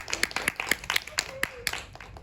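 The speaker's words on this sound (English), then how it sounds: "First of all, I'm going to give you a round of applause." Small panel clapping for a presenter at a 2024 informatics senior exhibition, sparse individual claps in a loose irregular rhythm, close and distinct, with a faint voice or tone underneath.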